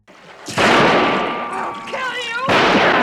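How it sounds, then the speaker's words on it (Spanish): A gunshot in a western film rings out sharply and loud, followed by a lingering reverberant tail and a second blast near the end, with a voice speaking over it. "Dispara con la intención de matarlo"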